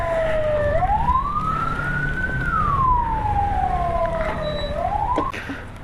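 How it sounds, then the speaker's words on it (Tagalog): A loud ambulance siren wails nearby, its pitch sweeping slowly up and down over steady traffic rumble. "Uy, may ambulansya oh."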